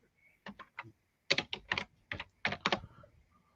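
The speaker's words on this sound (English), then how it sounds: "So I can actually type during the show and not everybody hears it." Someone types on a computer keyboard during a reloading podcast, producing several short, close bursts of crisp key clicks separated by brief pauses in a quiet room.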